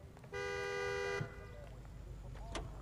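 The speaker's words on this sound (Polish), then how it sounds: "Nikt na mnie nie trąbi." A car horn sounds in the video game L.A. Noire. One sustained honk lasts almost a second over a low background hum of traffic, followed by a short fainter toot.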